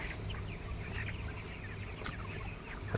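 Chickens clucking steadily in a poultry farm shed over a dense background of many birds, with scattered chirps and a constant low hum throughout.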